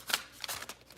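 Quick riffle-shuffle of a deck of oracle cards, several crisp papery bursts in close succession, near and fairly loud with no talking.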